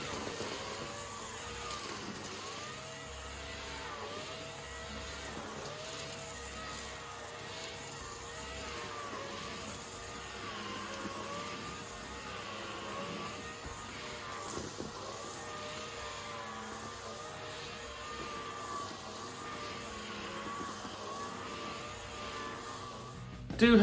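A Henry Hybrid vacuum cleaner cleaning up a big mess, its motor droning in a steady, even whine that holds without a break, with subtle shifts in pitch as the nozzle moves.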